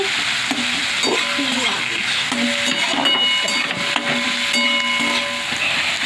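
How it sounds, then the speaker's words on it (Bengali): Chicken being stirred and fried in a pan with onion and tomato gives a loud continuous sizzle and crackle, broken by frequent scraping stir strokes, no speech. "চিকেন রান্না করছি, কষা কষা করে চিকেনটাকে নেড়ে চেড়ে একটু নিচ্ছি।"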